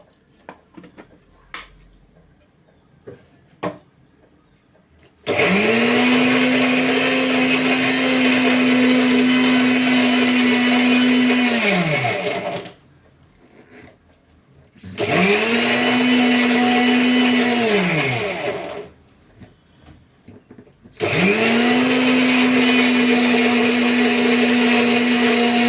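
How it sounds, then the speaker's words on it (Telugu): A kitchen mixer grinder runs close by in three loud whirring bursts separated by short pauses, with light clatter before the first run. "మిక్సీ పడుతున్నా ఫ్రెండ్స్."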